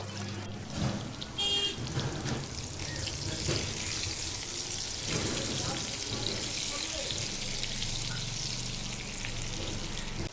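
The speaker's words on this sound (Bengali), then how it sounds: "ভাজার সময় গ্যাসের ফ্লেমটাকে মিডিয়ামে রাখবো আলুটা ভাজা হতে হতে" Potato pieces fry in oil in a pan over a medium gas flame, a steady close sizzle that runs throughout with occasional small crackles and clinks.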